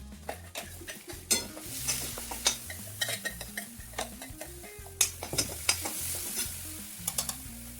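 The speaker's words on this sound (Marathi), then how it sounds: "मस्त तेल टाकून जिरे मोहरी टाकून घेतले हिरवी मिरची जी आपण मिक्सरमधून काढली ती पण टाकून घेतली आणि आता बटाटा टाकल्या" Potatoes frying in hot oil with cumin, mustard seeds and ground green chilli: a steady sizzle broken by frequent clinks and scrapes of a spoon stirring against the pan, close and clear with no talking.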